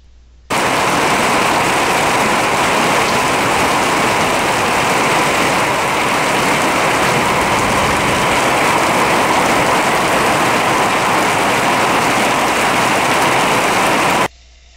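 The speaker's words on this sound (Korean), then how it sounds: "예루살렘 주변의 유다 산지에서의 전형적인 비가 오는 모습을 봅시다." Steady heavy rain falls in the Judean hill country near Jerusalem, a dense continuous hiss that starts abruptly and holds evenly for about fourteen seconds with no voices.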